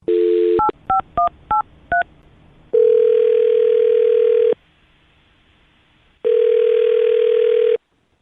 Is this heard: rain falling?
no